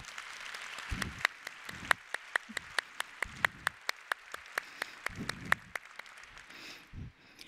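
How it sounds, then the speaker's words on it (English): Faint, sparse clapping at a port event, individual sharp claps spaced fairly evenly with a few low thumps between them in a quiet hall. "So please join me in giving them a round of applause"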